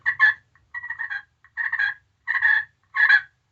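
Soft, rolling purrs from a glass turkey call come in five short bursts with brief pauses between them, close and clear with no talking.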